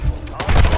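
Call of Duty ranked match gunfire crackles in a quick burst of close, loud shots with booming low end, overlapping a bit of voice chat.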